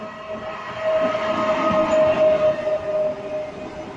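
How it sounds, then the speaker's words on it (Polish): A train rumbles past close by, a steady broadband roar with a sustained tonal whine riding over it for the full few seconds. "pociąg mnie rozprasza"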